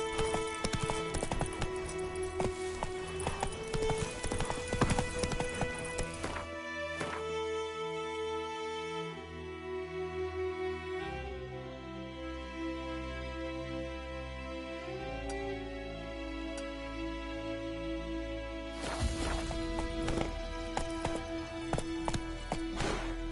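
Horse hooves galloping in a video game, a steady rapid clip-clop rhythm running throughout, close and moderately loud over a bed of ambient game music.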